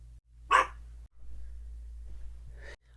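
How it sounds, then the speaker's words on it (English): A dog gives one sharp, loud bark near the start, followed by a short breathy huff, set against a low steady hum in an otherwise quiet room. "Are you gonna sit there and bark, or are you gonna calm down?"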